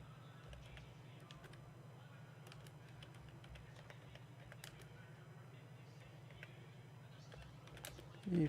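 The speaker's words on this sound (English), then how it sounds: "I'm just typing in their Discord real quick." Faint, quick typing on a computer keyboard forms scattered soft clicks over a low steady hum, quiet and close, with no clear speech.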